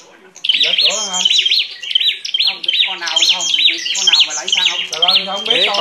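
Red-whiskered bulbuls fight at close range in Hóc Môn, giving loud, rapid, repeated chirps and harsh squawking calls that overlap almost continuously.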